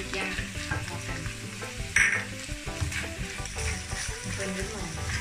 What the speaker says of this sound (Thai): เราจะใส่พริกหยวกคนไปพร้อมกันเลยก็ได้